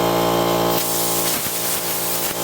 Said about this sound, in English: I just need a burst of air is what I need